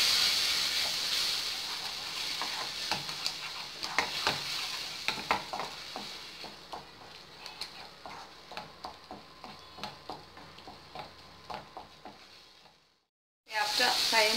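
Tomato paste sizzles in a pan on the stove, a steady close hiss with regular clicks of a spoon stirring. The sizzle fades over time, then cuts out briefly before returning.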